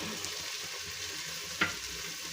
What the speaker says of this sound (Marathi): हे छान असं मिक्स करून घ्यायचं आपल्याला तेलामध्ये